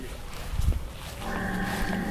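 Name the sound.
Red Brahman cattle mooing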